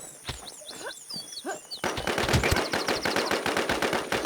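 Rapid bursts of automatic gunfire in the online survival shooter Infestation, a few scattered shots at first, then a dense, sustained volley of loud cracks with no talking.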